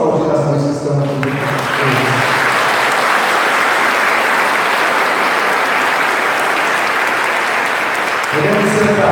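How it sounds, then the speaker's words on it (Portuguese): A church congregation at a Mother's Day Mass applauds the mothers, sustained loud clapping that fills the space for several seconds, with speech briefly at the start and end. "vamos aplaudir as mães que estão aqui"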